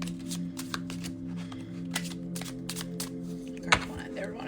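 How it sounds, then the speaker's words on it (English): Tarot cards are shuffled by hand in quick, soft riffling bursts over a low steady hum, with a sharper snap near the end. "Okay, I'm going to shuffle one more time."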